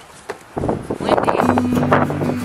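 Gusty wind buffets the microphone with a rough, rumbling roar that rises and stays strong, joined by a faint low tone.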